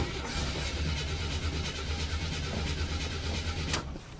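A barn-find Buick Grand National engine cranks repeatedly after dying, a steady low mechanical churning that cuts off abruptly near the end without catching.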